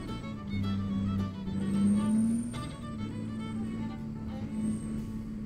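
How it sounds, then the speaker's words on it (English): A truck engine in American Truck Simulator drones steadily at a low, even pitch with slight swells as the revs rise and settle, its hum continuous and moderately quiet with no talk. "this truck sounds really good"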